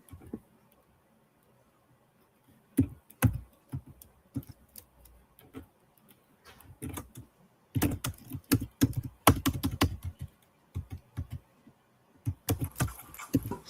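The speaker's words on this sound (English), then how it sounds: "Sounds like a typewriter." Fingers typing on a computer keyboard with a clacky, typewriter-like sound, irregular bursts of sharp key taps separated by short pauses, heavier flurries late on, close and clear with no talking.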